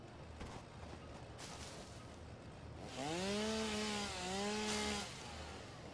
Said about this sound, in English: I like when my chainsaw just chops down those rocks there.